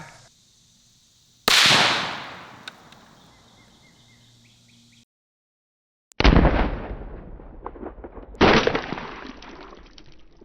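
A rifle fires in a re-creation of the Trump assassination attempt: one loud, sharp shot with a ringing decay, then after a silent gap two more heavy blasts a couple of seconds apart, each trailing off outdoors.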